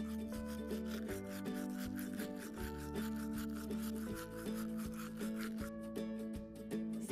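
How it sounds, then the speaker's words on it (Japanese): A toothbrush scrubs teeth with quick rhythmic brushing strokes, close and fairly quiet, repeating in short bursts alongside a steady tonal background, with no speech. "優しくこちょこちょって磨きながらちょっとずつ前歯まで磨いていこうね。"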